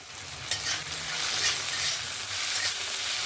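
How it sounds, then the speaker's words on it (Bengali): Tomatoes with salt being stirred in a frying pan, a steady sizzle with scraping spoon strokes throughout, close and alone. "লবণটা দিয়ে আবারও নাড়াচাড়া করে নিলাম।"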